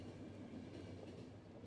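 A train runs in the video game The Final Station, a quiet, continuous low rolling rumble with faint rhythmic rail noise and no voices.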